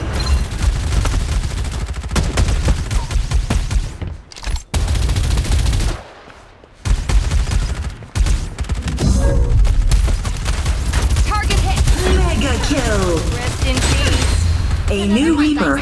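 Rapid gunfire bursts and booms from the video game Farlight 84 mobile, with dense automatic shooting, short gaps, and in-game voice lines and effects layered over the action.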